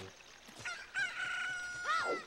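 A rooster crows loudly in a drawn-out, rising and falling call, synthetic-sounding, preceded by a few short clucks, in the video game Ocarina of Time.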